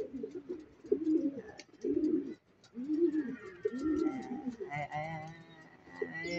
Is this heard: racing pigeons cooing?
yes